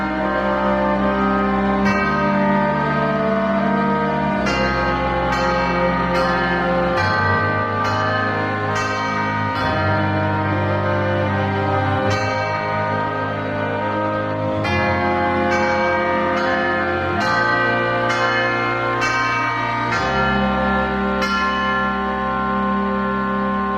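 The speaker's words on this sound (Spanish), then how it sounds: "La campana anuncia el silencio." Church bells ring out in a series of bright clanging strikes over a sustained, reverberant musical backdrop, loud and echoing across the whole stretch with no voices.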